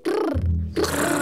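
Cartoon children in Peppa Pig imitate tigers purring, making two drawn-out vocal rumbling purrs with a short gap between them, close and fairly loud.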